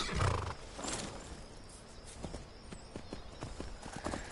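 Horse hooves clop in Skyrim: a few loud hoofbeats at the start, then softer, irregular clopping steps that fade to a quiet patter.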